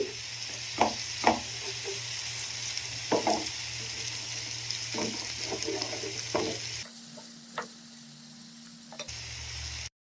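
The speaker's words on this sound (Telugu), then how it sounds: "పచ్చివాసన పోయేంత వరకు ఫ్రై చేసుకోవాలి." Ginger garlic paste frying in a pan, a steady sizzle with repeated scraping stirs of a spoon, loud and close, the sizzle dropping in level near the end.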